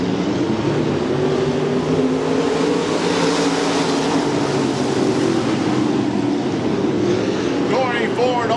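Dirt track pure stock and sportsman race cars at I-55 Raceway roaring together at the start of a heat race, a loud continuous engine drone with a voice talking over it.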